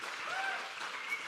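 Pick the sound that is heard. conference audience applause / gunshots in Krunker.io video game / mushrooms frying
conference audience applause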